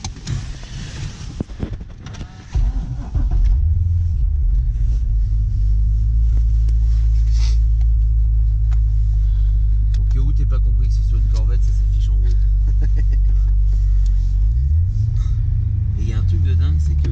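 A Corvette engine held near 3000 rpm, a deep, steady low rumble that swells after a brief lighter opening and stays loud and constant inside the cabin, with a voice talking over it.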